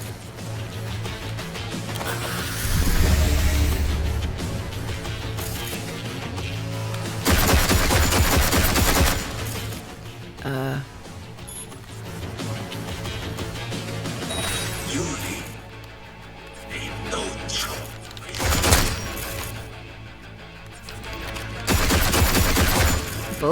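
Bursts of gunfire in the video game Cyberpunk 2077 come in loud clusters, with rapid automatic fire and impacts against game music and effects, and a voice speaks over parts of it.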